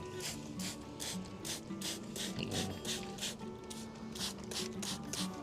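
A pump sprayer sprays a calamansi plant in a series of regular rhythmic hissing bursts, about two each second, close and fairly loud, with a faint mechanical clicking from the pump under the spray.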